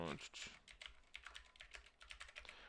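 Rapid typing on a computer keyboard, close and clattery, with a steady stream of key taps and a brief voice at the start.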